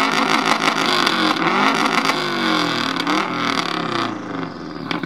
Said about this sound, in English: I cut off the one muffler it had left and put blast pipes on it.